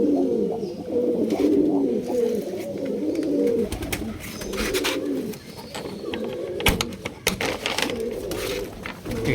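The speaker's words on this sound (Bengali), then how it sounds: "সমস্ত পায়রা দেখিয়ে দিলাম।" A home pigeon loft in Kolkata holding Sirajee and Lakka pigeons, with many birds cooing continuously in overlapping low throaty calls, close and fairly loud, with occasional wing flutters and clicks.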